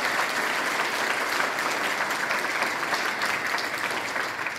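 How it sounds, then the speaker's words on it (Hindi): Applause fills a hall at a gathering held in Attock for people with special needs, following a girl's speech: dense, even clapping from a sizable audience, sustained throughout and tapering slightly at the end. "अटक में स्पेशल अफराद के लिए सजी महफिल आयशा की तकरीर पर तालियों से गूंज उठी।"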